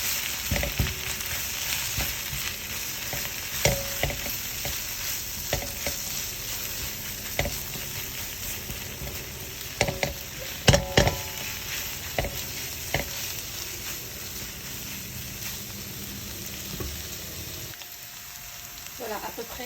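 Beaten eggs sizzle and fry in a hot pan with rice, a steady crackling hiss running throughout with occasional sharper pops and stirring scrapes.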